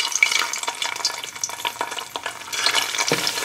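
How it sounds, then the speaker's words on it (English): Beef frying in a pan for Ghana jollof rice, a close, busy sizzle with fine crackles and a few louder pops, steady and alone without voices. "so I'm gonna fry my beef."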